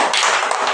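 A short burst of children clapping for a classmate in an English classroom, a quick flurry of close, bright claps lasting under a second with no talking.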